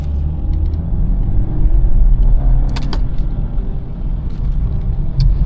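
A BMW 2 Series with the M package accelerates with a loud, steady engine rumble heard from inside the car, rising slightly in the middle, with a few faint clicks over it.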